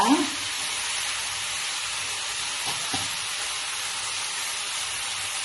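Ingredients for South Indian barati fry sizzle and fry steadily in a hot pan, a dense continuous hiss with a brief louder burst at the start as the food goes in, no talk.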